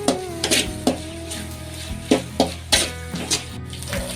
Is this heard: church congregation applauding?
no